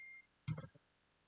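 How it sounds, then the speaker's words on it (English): A phone gives a short text-message notification: a brief, soft beep followed by a quick double chirp, heard faintly over quiet room background. "Getting a text."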